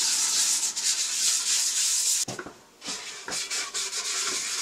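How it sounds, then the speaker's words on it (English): Rhythmic, raspy sanding strokes with 220 grit sandpaper on cured epoxy resin, a steady scratchy rub that stops abruptly, followed by a few shorter, quieter passes. "I'll start off by sanding with 220 grit sandpaper"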